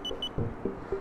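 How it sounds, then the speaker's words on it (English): A camera stabilizer's motors switch on, a few short electronic beeps followed by brief whirring motor bursts as the gimbal aligns itself, close and quiet. "You'll hear it beep and then it will align the camera in the center."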